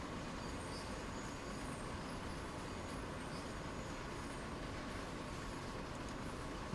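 A BR 212 diesel locomotive hauls a freight train on the Rhein-Ruhr main line in Train Sim World 2, giving a steady, continuous rumble of engine and rolling wagons with faint wheel squeal and no talk.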